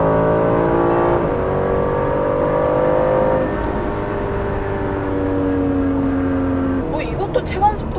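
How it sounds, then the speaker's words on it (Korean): Aston Martin DB11 V8 revving high in Sport Plus mode, heard from inside the cabin: a loud rising engine note that drops with each gear change before climbing again, with the driver talking briefly near the end. "고회전으로 올라가니까 엔진 쪽 사운드가 확실히 더 많이 올라오죠"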